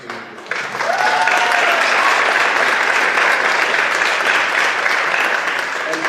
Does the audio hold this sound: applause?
yes